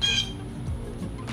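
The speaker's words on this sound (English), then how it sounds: "Loud bird behind me." A loud bird squawk rings out close behind during a cologne review indoors, a harsh burst at the start followed by lower rough calls, with no talking.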